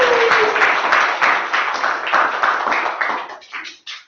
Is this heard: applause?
yes